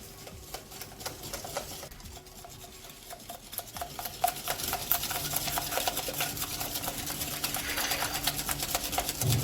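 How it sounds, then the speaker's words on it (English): Cupcake batter with orange zest being stirred in a bowl: quick, steady scraping and tapping strokes that build gradually louder, with no talking over them. "Mix again."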